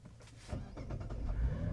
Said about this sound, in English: it actually has a traditional starter sound